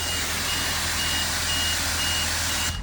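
A car wash bay sounds its one-minute warning as a steady, loud electronic beeping tone that runs continuously for a few seconds over background machinery hum and then cuts off abruptly.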